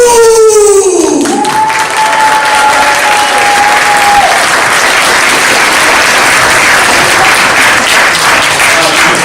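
Loud, sustained applause from a comedy show audience welcoming a performer named Amir, a thick continuous roar of clapping with a brief whistle early on.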